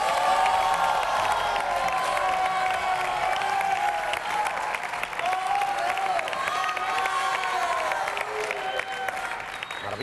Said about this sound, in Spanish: un fuerte aplauso para Dani Mateo